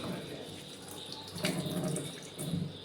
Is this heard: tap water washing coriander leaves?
yes